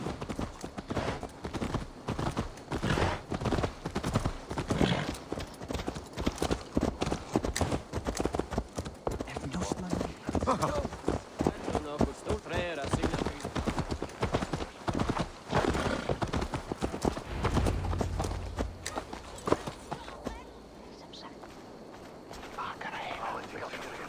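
Horse hooves clip-clop in steady walking rhythm throughout a stretch of Assassin's Creed Valhalla gameplay, close and fairly loud, with an occasional whinny, game dialogue spoken over it, and the hoofbeats stopping near the end.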